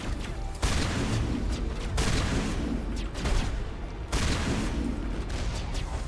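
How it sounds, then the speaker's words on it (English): Heavy shotgun blasts in the video game Massive Effect, a few loud booming shots spaced a second or two apart over continuous rumbling battle noise. "That's the first time I've used a shotgun because my main weapon is just not available."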